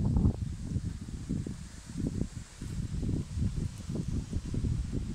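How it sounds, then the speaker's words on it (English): Low buffeting gusts of wind batter the microphone in uneven bursts, rumbling and close, with no voices. "Sorry, it's a bit windy today"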